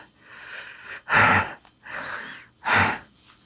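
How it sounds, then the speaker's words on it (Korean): Heavy, rough breathing comes over a telephone line, alternating slow exhales with two sharp, loud gasping inhales, close and alone without speech. "거친 숨소리뿐."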